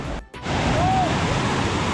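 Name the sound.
strong rushing water after heavy rain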